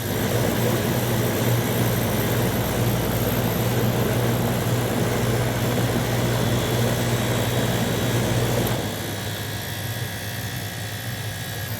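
A refrigerant recovery machine pulls refrigerant out of an air conditioner hose during a compressor replacement on a wall-mount unit, giving a loud, steady mechanical drone with constant hiss that drops to a quieter hum near the end.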